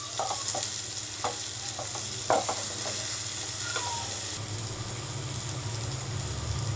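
Chicken pepper fry with green chillies and curry leaves sizzling steadily in a hot pan, a constant frying hiss with occasional light stirring clicks of a spoon, close and without speech.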